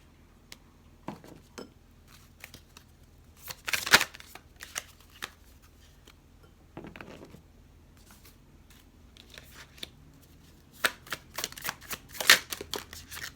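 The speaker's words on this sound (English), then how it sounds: "I'm going to pull from the Sacred Rebel Oracle deck." Oracle card decks being shuffled, with soft papery riffles and flicks coming in scattered bursts, closest and loudest around the middle and near the end, in a quiet room with no talking.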